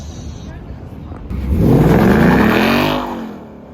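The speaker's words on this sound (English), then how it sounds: "just randomly came across the Mustang meet. Pretty cool to see Mustangs and Camaros here in Europe" A Ford Mustang or Camaro revving at a Mustang car meet in Prague, Czech Republic: a loud engine note climbs sharply, holds, then falls away, with voices nearby.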